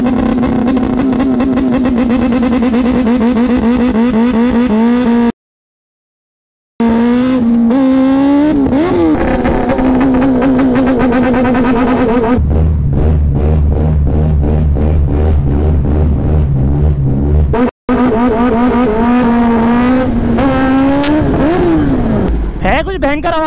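Kawasaki ZX10R motorcycle using launch control, loud high-pitched revving held steady then repeated rising acceleration sweeps, very close, with a short gap between bursts.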